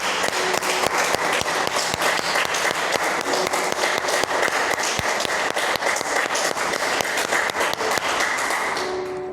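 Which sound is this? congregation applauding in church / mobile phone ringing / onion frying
congregation applauding in church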